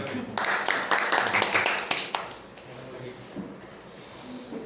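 A room of trainees gives a burst of clapping during a workshop session, a few seconds of dense applause that fades out into quiet murmuring.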